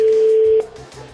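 A steady electronic ringback tone sounds on a phone call to the Sarcelles town hall, one clear ring that cuts off partway through and leaves quiet line noise.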